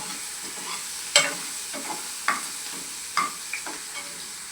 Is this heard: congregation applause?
no